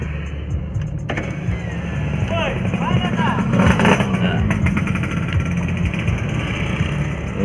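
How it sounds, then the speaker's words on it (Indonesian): Morning street traffic at Labuan market on Jalan Jenderal Sudirman, with motorcycles, minibuses and cars idling and passing, a continuous engine rumble with a brief horn-like tone, under nearby talk. "Motor di kiri, rang-rang di kanan, dan mobil banyak berhenti."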